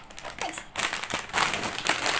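A plastic bag holding a toy is torn open up close, with rustling crinkles and short tearing bursts over about two seconds.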